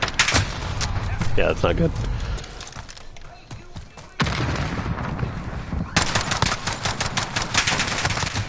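Pistol gunfire in Call of Duty: Modern Warfare, with dense bursts of shots and game noise in two loud stretches around a quieter gap, while a voice talks over the action.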